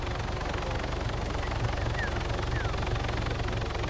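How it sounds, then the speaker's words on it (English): Police helicopters in the Arma 3 video game, a continuous rotor thrum and engine drone at steady volume, with players talking over it. "Lots of cop choppers."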